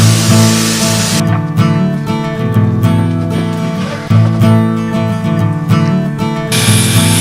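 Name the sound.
air hissing from a DeWalt air hose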